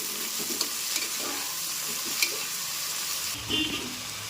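Palak and fenugreek leaves are stirred in hot oil for a Tamil Nadu style mutton biryani, giving a continuous close sizzle broken by soft scrapes and knocks of the spatula.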